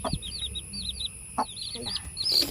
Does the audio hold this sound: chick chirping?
yes